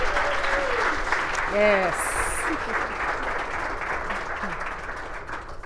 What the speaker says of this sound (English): A warm round of applause for each of them,